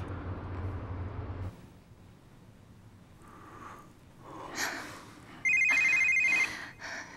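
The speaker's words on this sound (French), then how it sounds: "Oh, toi et ce satané téléphone, ne réponds pas." A telephone rings in a French-dubbed romantic film, a loud electronic ring about one second long near the end, preceded by quiet breathing and a sharp intake of breath.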